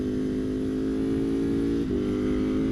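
A Ducati Panigale V4 SP2 motorcycle engine runs on a track at a steady, loud drone, holding a constant note with one brief dip near the end.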